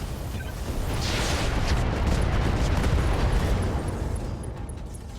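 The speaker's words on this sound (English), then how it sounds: "Drop the remaining 2 bombs of Inferno and 1 mine bomb and just blow everything up here" Inferno bombs and a mine bomb detonate in the RogueTech mech game, a sustained loud rumbling blast that swells and slowly fades, with no talk over it.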